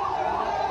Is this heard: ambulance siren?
yes